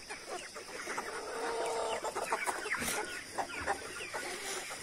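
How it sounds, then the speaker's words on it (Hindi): Several chickens cluck and murmur continuously at a moderate distance, with occasional sharper squawks. "मुझे बहुत अच्छा लग रहा है मुर्गियों को खाना देने में"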